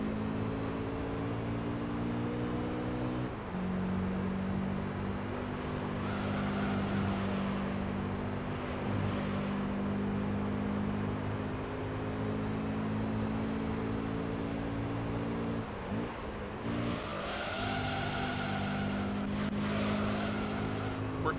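A Honda NSX engine revs hard in the Gran Turismo 3 racing game, holding a steady high drone with abrupt pitch drops and climbs at gear shifts, alongside faint background game noise.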